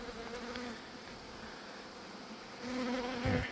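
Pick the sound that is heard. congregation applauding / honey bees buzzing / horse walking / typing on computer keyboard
honey bees buzzing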